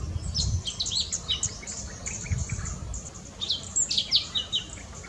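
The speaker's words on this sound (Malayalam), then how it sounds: "ട്വിറ്റർ എന്നോ മറ്റോ ഉള്ള നീട്ടിയുള്ള വിളി നല്ല മാധുര്യമുള്ളതാണ്" A golden-fronted leafbird (Chloropsis aurifrons) gives bright, quick chirps and twittering phrases in bursts, heard over a steady buzz of insects.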